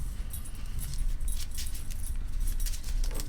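KeyForge cards being shuffled at a tabletop tournament, a soft continuous riffling and rustling close by, with brief crisp bursts of card flicks and no talk.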